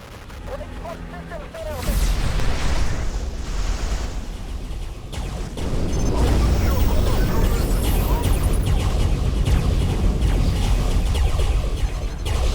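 Space battle explosions crash and rumble in the space combat game Starpoint Gemini Warlords, with heavy booming blasts building into a dense, continuous roar as a voice speaks over the fighting.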